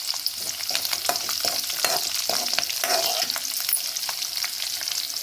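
Green chilies fry in a pan for okra puli kulambu, giving a steady, close crackling sizzle broken by frequent sharp clicks of stirring throughout.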